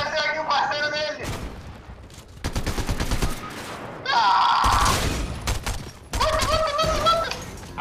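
Fortnite gunfire crackles in fast bursts of sharp shots, interleaved with loud electronic game effects that come and go across the scene.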